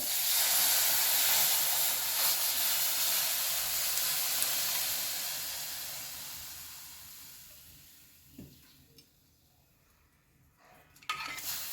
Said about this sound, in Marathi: आता आपण हे कढीचं मिश्रण त्यामध्ये घालून घेणार आहोत